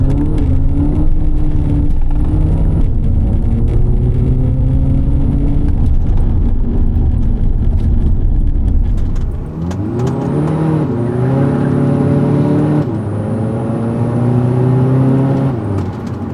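Tuned VW Jetta TDI with DSG gearbox, about 250 hp, accelerating hard from inside the cabin: a loud droning engine rising in pitch, then quick crisp gear shifts and renewed climbs.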